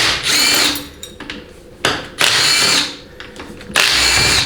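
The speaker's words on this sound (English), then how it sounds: "So we'll get rid of the detent roller bolts first," Power tool buzzing in three loud, sustained bursts with short pauses between, removing detent roller and other bolts from a 4L80E automatic transmission during a teardown; no talk.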